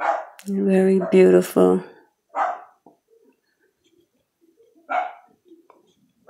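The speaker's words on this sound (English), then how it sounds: "You guys, that's my dog." A dog barks a few times from another room, sharp distinct yelps separated by quiet gaps, following a short stretch of someone talking at the start.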